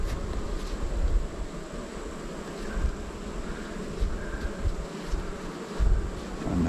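Honey bees buzz around young hives during fall hive work, a low, continuous droning hum with light outdoor wind noise, rising and falling in loudness as insects pass near the microphone.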